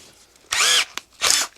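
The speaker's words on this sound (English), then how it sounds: "3 screws in, and already we have one that won't come out, so I have to drill it out" Power drill boring out a stuck screw during a restoration, two loud whining bursts of about a third of a second each separated by a short click, close and alone.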